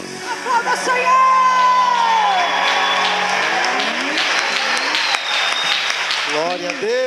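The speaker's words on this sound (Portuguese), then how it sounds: "Aplauda o Senhor." Congregation clapping and cheering during a baptism service in church, with whoops and shouts over a sustained crowd roar and singing or sung tones, loud and continuous.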